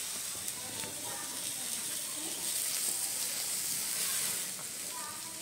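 Fish fries in oil inside a multi maker, giving off a soft, steady hiss and sizzle that stays fairly even from start to finish.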